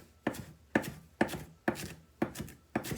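A knife chops carrot greens on a cutting board, six steady crisp strokes with short rustly tails, close and fairly quiet.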